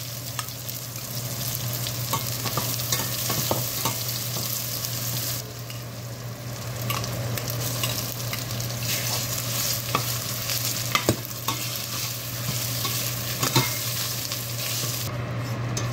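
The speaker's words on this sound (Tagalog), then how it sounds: "Lagay natin ang onion." Onion frying in a pan for a Filipino lomi dish, with a steady close sizzle and repeated stirring scrapes and taps of a utensil against the pan, over a faint constant hum.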